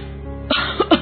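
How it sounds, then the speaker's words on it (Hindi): A few sharp coughs from a single person, close by, in quick succession over a low steady background hum. "ये खांसी तो जा ही नहीं रही है।"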